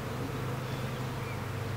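Swarming honeybees buzz in a thick, continuous drone, close and steady throughout, with no voices over it.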